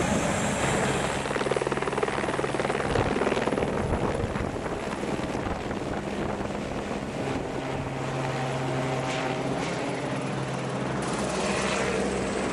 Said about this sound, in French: Ah, là, il fait le plein et il repart.